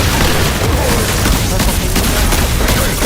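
Rapid SMG fire in the Destiny 2 video game, a dense, loud continuous burst of shots with booming impacts filling the whole moment, with a voice faintly underneath.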